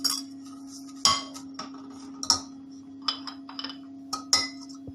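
Lemon cake batter, with sugar, yogurt, milk and lemon juice, being stirred in a bowl, giving sharp clinks and knocks of a utensil against the dish at irregular intervals over a steady low hum, close and fairly loud.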